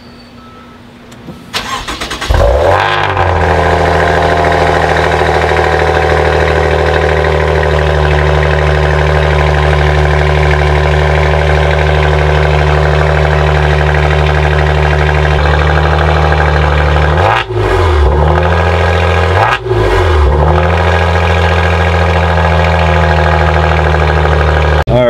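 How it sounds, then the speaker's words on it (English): A 2024 Maserati GranTurismo cold-starts in sport mode: a crank and sharp flare, then a loud, steady idle with a strong low drone, and two brief blips of revving near the end. "let's do a cold start in sport"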